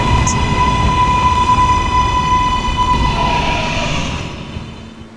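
K subway train running in a fictional Potato City Subway video game, a steady loud rolling rumble with a sustained high tone, fading toward the end as the train slows, with speech over it.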